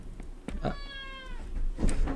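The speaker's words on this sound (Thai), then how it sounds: "เหมือนมีแมวมา" A cat meows once in the video game Doppelganger, a drawn-out, clear cry set against a low background hum, with soft thumps before and after.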